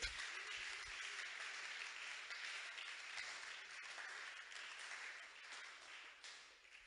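Church congregation applauding, a steady wash of clapping from many hands that sounds faint and distant and continues throughout.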